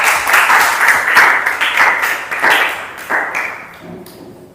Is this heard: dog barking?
no